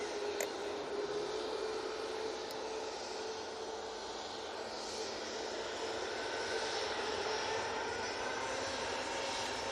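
An airliner taking off from Manchester Airport for Turin sends out a continuous, even jet-engine roar from some distance, steady across the whole stretch with no talking.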